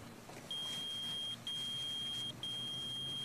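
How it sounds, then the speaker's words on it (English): Three long, steady electronic beeps sound in a row, each lasting about a second with short gaps, over a quiet low background hum. "You're beeping."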